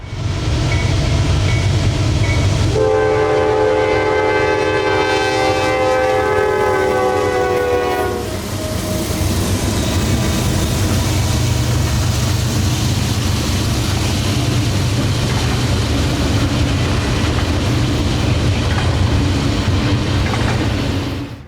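A train passes on the track at Pennsylvania's Horseshoe Curve on a wintry evening, opening with a loud multi-tone horn blast lasting several seconds, then a continuous heavy rumble and clatter of railcars rolling by close.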